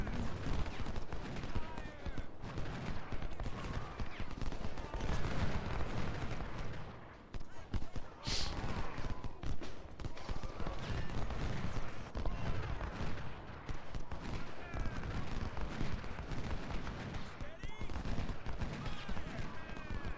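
Massed gunfire from units shooting in the Ultimate General Civil War battle game, a dense crackle of volleys and scattered shots that rolls on steadily, fairly quiet under the din, with a few louder bursts.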